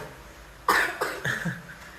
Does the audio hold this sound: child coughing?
yes